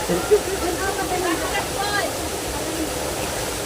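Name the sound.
Pamplona waterfall flowing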